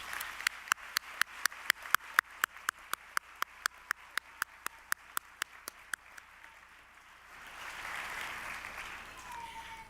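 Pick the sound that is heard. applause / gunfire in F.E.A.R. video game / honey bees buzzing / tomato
applause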